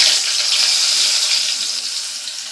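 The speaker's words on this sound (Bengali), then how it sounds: "এখন এই তেলের মধ্যে আলুগুলোকেও একটু হালকা করে ভেজে নেব।" Potatoes frying lightly in hot oil in a home kitchen give off a steady, even sizzling hiss that holds for a few seconds, close and fairly loud, with no talking.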